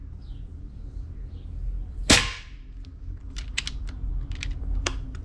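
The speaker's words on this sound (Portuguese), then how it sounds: "Vamos lá, 10 disparos." A single sharp crack from a Leviathan 5.5 air rifle firing an Aurok hollow point pellet at a 10 m target, followed by a run of light clicks and taps.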